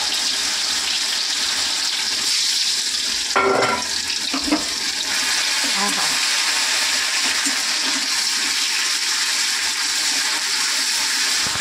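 Nigella seeds drop into hot oil in a wok with a brief sharp crackle and stir, then a steady close sizzle of frying oil continues alone to the end.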